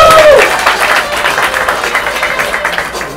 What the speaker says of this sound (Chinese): 让我们掌声欢迎三木。